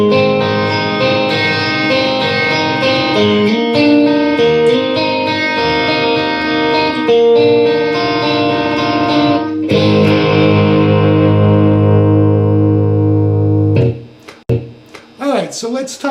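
Stratocaster electric guitar on the bridge and middle pickups with a chorusy tone, playing a strummed part, loud and sustained, then a held ringing chord that cuts off with a little string noise.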